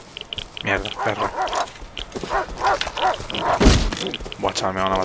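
Dogs barking and yipping in the survival game Rust, several sharp close barks scattered among thumps and game noise, with someone talking over them throughout.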